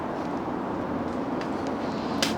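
Steady broadband traffic rumble from nearby Burnside street at 7 in the morning, a continuous wash of passing vehicles with no voices.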